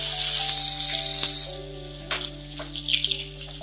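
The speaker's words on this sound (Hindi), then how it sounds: "हींग डालने के बाद हम इसमें 1 प्याज, जिसे हमने छोटे छोटे टुकड़े में काट लिया है" Finely chopped onion going into hot oil seasoned with asafoetida, a loud hissing sizzle at first that drops sharply partway through to softer crackling and pops over a steady low hum, no voices.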